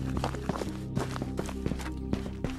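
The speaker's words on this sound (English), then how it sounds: "no way would your footsteps be this loud and freaking grass" Loud, rapid footsteps patter across grass in the VR shooter Ghosts of Tabor, a steady running rhythm of soft crunching steps close up over a low ambient hum.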